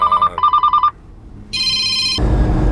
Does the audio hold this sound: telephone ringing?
yes